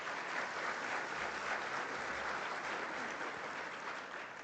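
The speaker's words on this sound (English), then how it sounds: "And I think Namibia deserves a round of applause." An audience at an oil and gas conference in Namibia gives a steady round of applause, dense even clapping from a full room holding at constant strength throughout.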